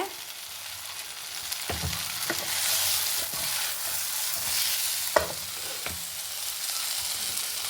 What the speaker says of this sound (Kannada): ಈಗ ನಾವು ಪುಡಿ ಮಾಡಿ ಇಟ್ಕೊಂಡ ಪುಡಿ ಹಾಕೊಂಬ